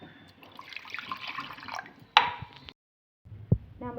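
Half a tumbler of water poured into a pot of roadside-style kuzhambu, heard as a close splashing pour that stops abruptly, then a short pause and a small clatter and trickle.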